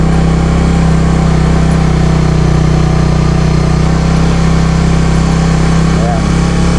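A car climbs a steep hill with the driver holding light, steady throttle, producing an even, close engine drone and low hum that persist unchanged, with a voice talking above it.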